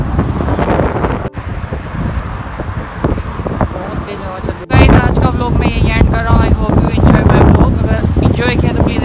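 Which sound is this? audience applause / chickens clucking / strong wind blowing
strong wind blowing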